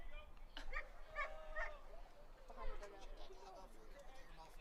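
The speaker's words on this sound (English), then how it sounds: "We got a dog somewhere in this park barking." A dog barks somewhere in the stands at a college baseball game, a few short yaps and whines in two brief bursts, faint and distant beneath crowd chatter.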